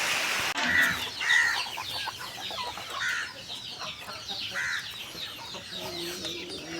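Chickens cluck in short bursts at a home in rural Tamil Nadu, several calls spread across the clip over a rustling background, fairly close and moderately loud.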